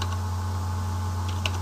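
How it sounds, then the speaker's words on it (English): Keys tapped on a computer keyboard while code is entered in the Java Eclipse editor, soft quick clicks over a steady electrical hum, with one sharper keystroke near the end. "No, let me type it in."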